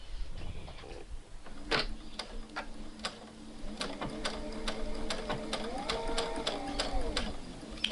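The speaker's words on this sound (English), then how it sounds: "And now I'm going to backstitch." A domestic sewing machine runs in short bursts while backstitching a seam on a garment, its needle ticking rapidly and fairly close, with a quiet voice speaking between the bursts.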